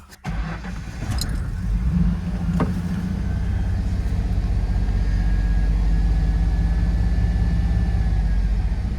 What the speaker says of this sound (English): The idle is just all over the place too.